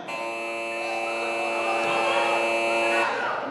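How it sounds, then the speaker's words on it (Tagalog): A basketball game's shot clock buzzer, loud and flat, blares continuously for about three seconds, then cuts off abruptly. "Tumunog lang yung buzzer."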